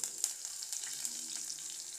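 Onions sizzle and fry in hot oil in a pan with fennel seeds, a soft, steady crackle with small pops, close and fairly quiet, no voices.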